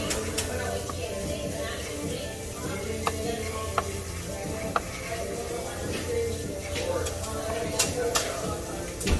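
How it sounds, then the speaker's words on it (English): A knife chops food into cubes on a board in a home kitchen, a string of sharp, uneven taps over a busy background of murmuring voices and faint sizzling. "chopping this up right now. Just some cubes."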